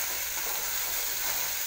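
Vegetable pieces frying in a tempering of spices while being stirred, giving a steady, close, even sizzle throughout with no talking.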